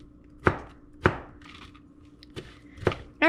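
Knife strikes on a cutting board while chopping food in a home kitchen: four or five separate sharp chops, close and unevenly spaced, with quiet pauses between them and no talking.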